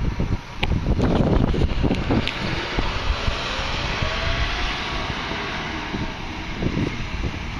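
Strong outdoor wind buffets the microphone at a surf spot on a breezy, overcast day, a steady heavy low rumble with gusty swells and no voices.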